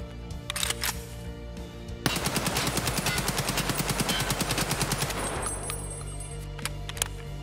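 A full-auto AK-104 rifle in Escape From Tarkov fires one sustained burst of about three seconds, rapid evenly spaced loud shots, preceded and followed by quieter handling clicks.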